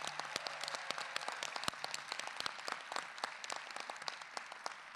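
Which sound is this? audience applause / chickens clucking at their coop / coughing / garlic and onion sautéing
audience applause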